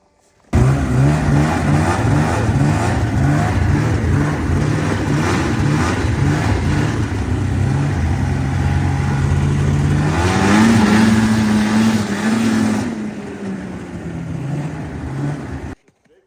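A Polaris Edge 600 snowmobile engine, freshly swapped and tuned, runs steadily close by, then revs up sharply for a couple of seconds before settling back to a rough, loud idle.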